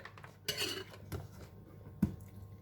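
A lid is handled and closed on a container of pickled cabbage with spring onion, giving a few close, quiet clicks and knocks spread across a calm kitchen background.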